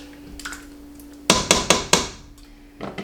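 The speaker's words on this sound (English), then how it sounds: "And I'm just gonna stir this up." A spoon works through a pot of slow-simmering chili and raps the rim four times in quick succession, sharp close knocks over a faint steady hum, followed by lighter clinks.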